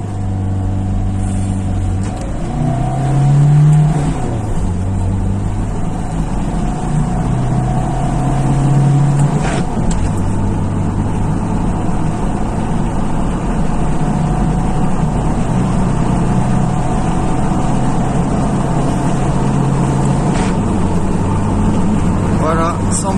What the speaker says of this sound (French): on va faire l'accélération de 0 à 100 avec le boîtier branché